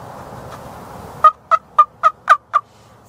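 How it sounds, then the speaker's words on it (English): A wild turkey gobbles in the field, a rapid run of six loud, sharp, evenly spaced gobbling notes after a quiet outdoor stretch. "Let me roll in that footage of that turkey bird"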